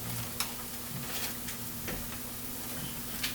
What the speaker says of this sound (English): to the pan with the onions, we're gonna add our vegan beef